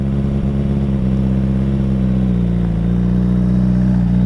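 Motorcycle engine held at a steady mid-pitched hum close by, then rising slightly as the clutch is released and the bike begins to pull away, with no talk over it.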